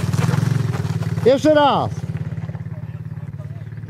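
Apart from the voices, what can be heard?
quad bike engine being given more throttle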